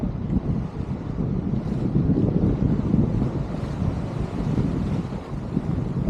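Strong wind roars and buffets continuously while kitesurfing, with a low rushing gust noise and a hint of water sloshing beneath it.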